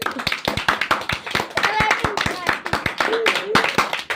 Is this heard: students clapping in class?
yes